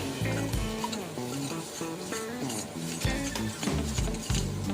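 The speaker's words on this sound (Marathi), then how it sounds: "आपल्याला आता घालायचे गरम मसाला हे सर्व आपल्याला छान परतवून घ्यायचं आहे" Spicy sev bhaji masala with garam masala is stirred and sautéed in a pan, giving loud close sizzling with frequent scraping and clinking of the spoon against the pan and no talking.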